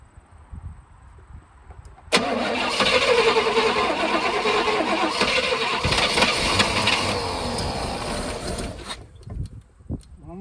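A 1978 Jaguar XJS fitted with a Corvette engine cranks and then catches, roaring loud and uneven for several seconds before cutting out abruptly, with faint sounds around it before and after.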